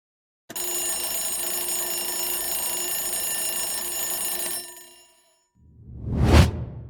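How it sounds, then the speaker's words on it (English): A doorbell rings with a sustained bright metallic chime for about four seconds, then fades, followed by a brief rising-and-falling whoosh at the end. "Doorbell, ding dong"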